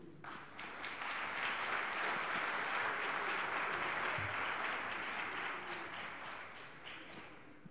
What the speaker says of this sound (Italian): A favore di fotografi e con l'applauso di tutti.